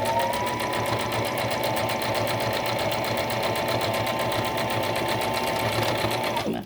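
A sewing machine runs steadily while stitching a seam, close and loud, with a fast, even mechanical chatter that stops abruptly at the end.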